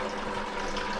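Coolant draining out of a Ford Dentside truck with a 12-valve Cummins engine, splashing onto a shop floor as a steady, continuous liquid pour, close and fairly loud throughout.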